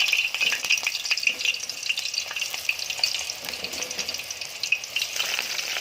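Eggplant fries in a hot pan with oil, a close, continuous crackling sizzle with sharp spitting pops throughout.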